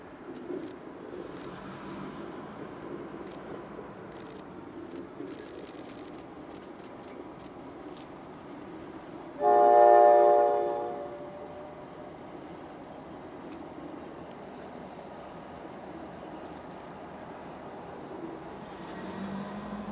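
A KCS Holiday Express train led by F unit locomotives passes at a distance, a low steady rumble with a brief horn blast midway, heard from afar in open surroundings.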